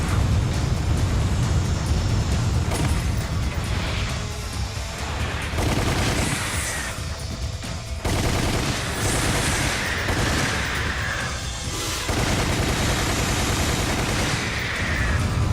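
Machine gun fire in a video game boss fight, dense rattling bursts that start and stop repeatedly over a loud, continuous game soundscape with short quiet gaps between volleys.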